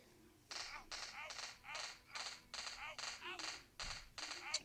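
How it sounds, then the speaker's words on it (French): Automatic bursts from an MP5 submachine gun fired in a first-person video game, about nine short regular volleys of sharp repeated shots, moderately loud and close. "Cette arme-là, le MP5, c'est une arme que j'apprécie vraiment."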